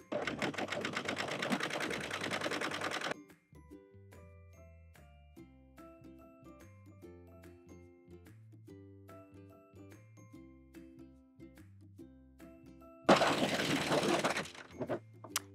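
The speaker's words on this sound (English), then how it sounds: "So I'm gonna be using the serger today" A serger overlocker finishing the fabric edges of an apron runs in two loud, fast-rattling bursts, one at the start and a shorter one near the end, with quiet background music between them and no talking.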